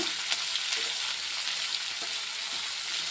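Onions fry in a pan, giving a continuous, even sizzle with faint crackles, close and moderately loud, with no voices.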